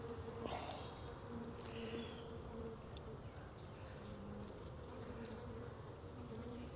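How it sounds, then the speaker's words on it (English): Honeybees in an open hive in Jacksonville, Florida, give off a continuous soft buzzing drone with a few louder individual bees flying close by, faint and steady without voices. "Lots of good nurse bees in this hive"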